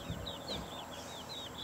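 Baby chicks, White Leghorn and game crosses, give thin, high peeps in a quick, steady series. The peeps are faint over a low background rumble.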